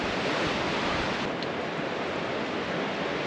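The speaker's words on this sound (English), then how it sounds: "Strong north wind today." Strong north wind roars steadily outside an off-grid cabin with waves washing in, a continuous broadband rush that stays loud and even throughout with no voices.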